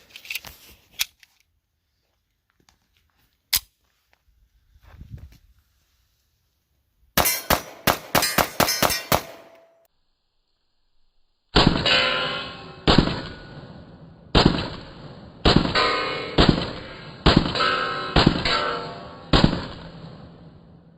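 Rapid fire from a Remington R1 Commander 1911 pistol in .45 ACP, a fast string of sharp shots followed by another string of loud, evenly spaced reports with ringing tails, after a few scattered distant pops.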